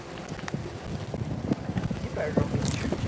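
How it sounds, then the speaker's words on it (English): Strong, gusty wind buffets the microphone at an outdoor train-watching spot near Oakdale, Tennessee. The rumble is steady and low, rising and falling, and a voice comes through faintly beneath it. "Man, that's just horrible wind."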